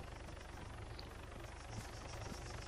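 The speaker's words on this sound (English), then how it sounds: "Helicopter flying overhead," A helicopter flies overhead in Arma 3, a faint, low, rhythmic rotor thump pulsing evenly beneath a soft engine hum for the whole stretch.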